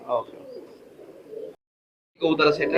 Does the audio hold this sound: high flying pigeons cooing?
yes